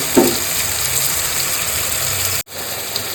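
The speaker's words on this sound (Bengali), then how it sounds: "দিয়ে ভালো করে এটাকে একটু কষাবো, ভালো করে একটু কষাবো" Mutton liver and chicken stir-fried with a spice paste in a pan, giving a steady loud sizzle and hiss that runs unbroken and then cuts out abruptly near the end.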